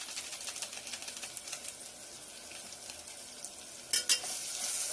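A rasam rice mixture seasoned with sambar masala and tamarind is stirred in a pot, giving a soft continuous scraping and sizzling texture with a sharper clatter near the end.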